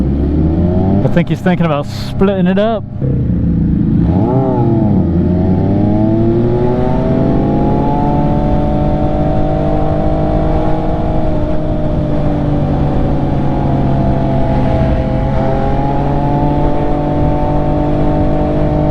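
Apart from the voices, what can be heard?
road traffic heard while riding an MV Agusta motorcycle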